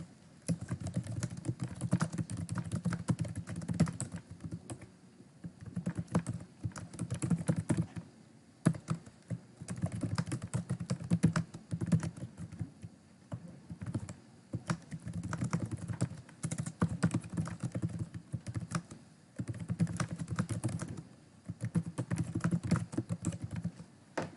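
A computer keyboard is typed on in bursts of rapid, close clicking, with short pauses between runs of keystrokes and no talking.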